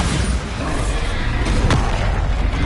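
A Bombarda spell blast in Hogwarts Legacy, a deep rumbling boom with a sharp crack partway through amid continuous battle noise.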